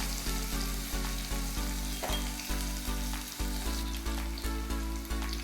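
Onion and tomato sautéing in hot oil in a home kitchen, a continuous bright sizzle running beneath rhythmic background music, with no speech.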